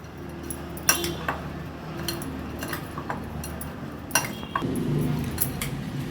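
A spoon clinks against a bowl while mixing a salad of dried baby shrimp, Agri Koli style, with scattered light taps and scrapes at close range over a low background hum.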